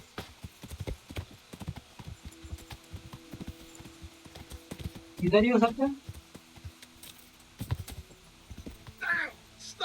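Horse hooves clip-clop in the medieval role-playing game Kingdom Come: Deliverance, a steady trotting rhythm running through the clip, joined by a brief whinny midway and voices talking over it.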